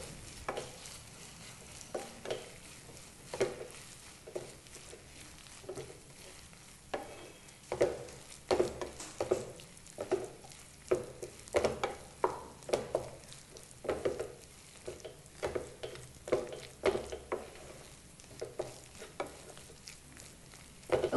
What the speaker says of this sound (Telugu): ఇప్పుడు ఉప్పు పసుపు కారం 3 కూడా బాగా కలిసేలాగా కలుపుకోవాలి